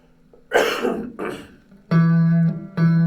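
Two close, rough coughs, then a pair of sustained plucked guitar notes ring out.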